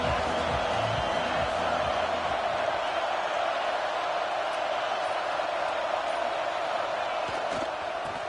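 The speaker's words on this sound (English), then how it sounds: "This crowd ready to make its presence known." Football stadium crowd at a USC versus Notre Dame rivalry game, a steady, loud roar of many voices that holds without a break.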